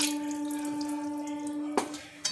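Water from a rinsed yogurt bowl splashes into a pan of cauliflower masala cooking without ginger, garlic or onion, a brief trickle over a steady hum, ending in two short sharper splashes.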